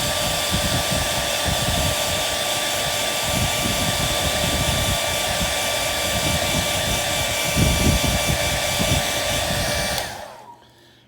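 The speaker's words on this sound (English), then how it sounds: "you can just take your hair dryer and evaporate" A hair dryer blows with a steady, loud whooshing roar and a faint whine, running for about ten seconds before switching off abruptly.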